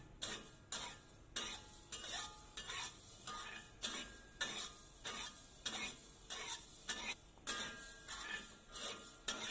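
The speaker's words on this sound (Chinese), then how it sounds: "放入锅中炒香， 方法跟炒胡椒粉是一样的" Spices dry-fried in a pot for vegetarian bak kut teh, a steady rhythm of close scraping stir strokes repeating about twice a second, with a faint dry sizzle underneath.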